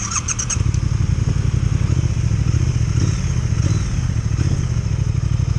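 A Triumph Speed Twin motorcycle engine runs close by with a steady, loud low rumble and a few light mechanical clicks at the very start, with no talking.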